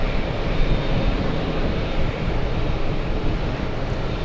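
An EgyptAir airliner taxis at JFK airport, its engines giving off a continuous broad rumble with gusts of wind noise, fairly loud and steady.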